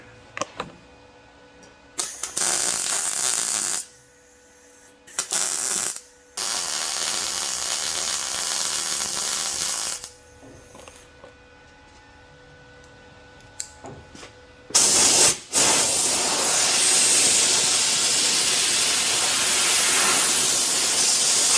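Hiss of compressed air or water spray cooling a freshly welded seam on a rat rod body panel, coming in several close, loud bursts of a few seconds each with quieter pauses, ending in one long sustained blast.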